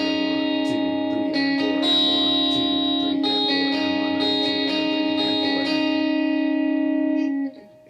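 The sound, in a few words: textured looping guitar riff with effects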